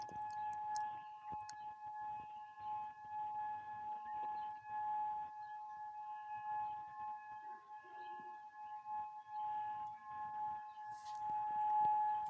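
Faint, distant wailing siren with sustained steady tones drifting under quiet outdoor ambience, heard at night from far away; no voices.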